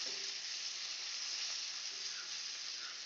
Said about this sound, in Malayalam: ഇതിലേക്ക് നമുക്കൊരു തണ്ട് കറിവേപ്പില ചേർത്ത് കൊടുക്കാം കേട്ടോ. ജസ്റ്റ് ഒന്ന് ഇളക്കി കൊടുക്കാം.